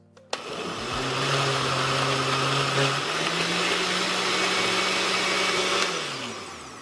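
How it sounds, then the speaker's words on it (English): A blender whirs loudly and steadily after a sharp click, its motor pitch shifting slightly midway before winding down at the end. "make sure my blender is shaking around"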